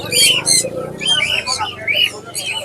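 Caged birds at Mirpur 1 bird market, including cockatoos, macaws and African grey parrots, give loud, close, repeated squawks and calls amid a light background murmur of people.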